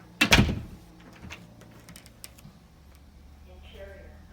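An interior garage door in a house gives one loud thud as it shuts near the start, then quieter clicks and rattles fade out, with a faint electronic chirp toward the end.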